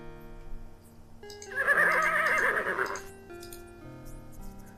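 A horse whinnies in the Conquests of the Longbow Robin Hood video game, a loud shrill neigh of about a second and a half that stands out over a quiet musical background.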